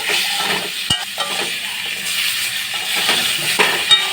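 Spoon stirring tomatoes and potatoes with turmeric in a sizzling pan, a continuous close scraping and frying hiss with a few sharp clinks of the utensil against the pan, no voices.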